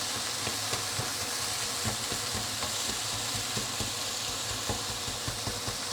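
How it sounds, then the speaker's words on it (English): Fish charring in a hot pan for fish soup gives a loud, steady, close sizzle, broken by frequent scraping and tapping as it is stirred and broken up. No voices. "And why is it I want to char the fish?"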